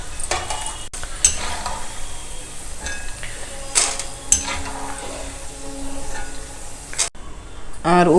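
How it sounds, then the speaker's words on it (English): Seedai dough, a traditional Uppu Seedai snack, sizzling as it fries in hot oil, with a steady crackling bubble throughout and occasional stirring and utensil clinks against the pan, close and moderately loud. "Now carefully drain it out from the oil. Similarly, gently slide in the remaining seedais also."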